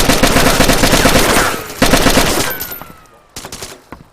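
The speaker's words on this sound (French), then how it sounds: "J'ai entendu tirer, moi, j'étais sûr qu'il y avait quelqu'un" Video game DayZ gunfire: a dense, loud burst of rapid automatic shots, then a few sharp single shots after a short lull, with faint voices in the background.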